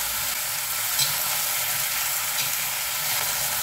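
Fish meat sizzling steadily in a hot pan, a continuous bright frying hiss with faint stirring scrapes, close and moderately loud with no talk.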